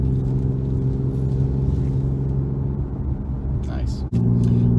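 An Infiniti Q50 cruises in third gear at about 30 miles an hour on back roads, giving a steady low engine and road rumble inside the cabin, with a brief dip near the end.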